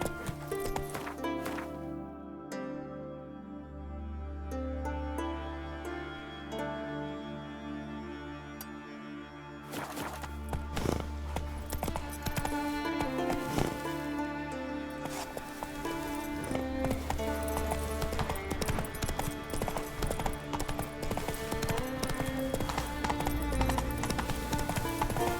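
Roach, Geralt's horse in The Witcher 3, gallops with steady clip-clop hoofbeats over game music, with a faint whinny now and then and the pace holding throughout.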